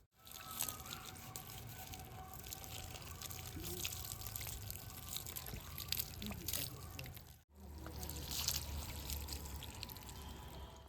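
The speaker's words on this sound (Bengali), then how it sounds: "এবার আমি জল দিয়ে চুলটা ধুয়ে নেব" Water poured over shampooed hair to rinse it makes a faint, continuous splashing and trickling, with a brief break partway through before the flow resumes.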